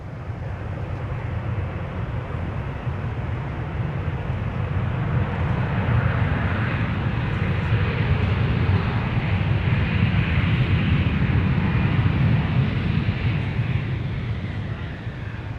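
A jet airliner landing on runway 30 left at Minneapolis–St. Paul airport gives a steady, broad engine roar that swells gently toward the middle and eases near the end, heard alone without talk.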